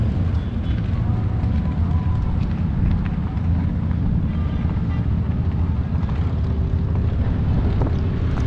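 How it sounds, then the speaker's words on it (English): Heavy wind buffets the microphone while filming from a motorcycle ride, a loud, constant low roar and rumble that fills the whole clip with no clear engine note or voices. "I hear the wind going by here more than I hear the."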